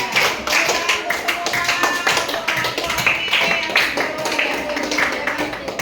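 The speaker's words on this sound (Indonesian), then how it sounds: "Tepuk tangan untuk Widodo" A junior high school class at SMPN 1 Teluk Mengkudu breaks into applause for a student named Widodo, a brisk, crowded flurry of hand claps that carries on steadily for several seconds, with faint voices mixed in.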